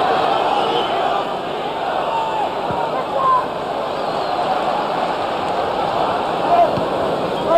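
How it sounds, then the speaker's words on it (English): A large football crowd at Anfield applauds during a 1996 Liverpool versus Leeds United league match, a steady broad wash of distant clapping and murmur filling the stadium with no break, rising slightly near the end. "Applause ringing round Anfield for a highly polished Liverpool move."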